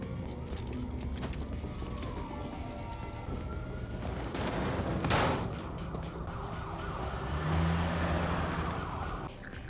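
A police siren wails in a film scene, heard at a distance beneath dense street and traffic rumble, rising somewhat louder partway through.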